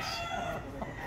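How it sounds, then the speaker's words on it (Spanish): A red, white-tailed fighting rooster crows in one short, fairly loud call close by. "Estamos hablando de Lobo, Dani Juan, un gallo de estatura, cretellado rojo, cola blanca, cruce especial."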